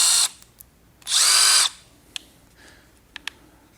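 Milwaukee M12 cordless drill/driver, the model with three speeds plus a drill setting, whirring in two short loud bursts, the second longer and steadier, with a few faint clicks in between.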